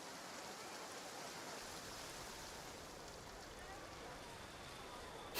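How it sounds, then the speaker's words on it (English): Steady rain pours down in the video game Genshin Impact, an even, unbroken hiss of falling water that holds at the same level throughout with no distinct drops standing out. "It rained for longer than I suspected."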